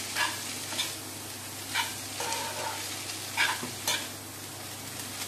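Maggi noodles frying in a pan are stirred with a utensil, a continuous sizzle broken by several scraping, clattering stirs at uneven intervals, close and moderately loud.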